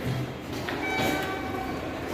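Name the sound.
Sapporo subway train in station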